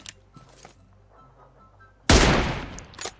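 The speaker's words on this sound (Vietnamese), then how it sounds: "Ui, bắn nhau trước mặt." Sudden loud burst of rapid gunfire between teams in PUBG Mobile erupts after quiet, faint sounds, rattling densely for about a second before tapering, with a few sharp shots at the end.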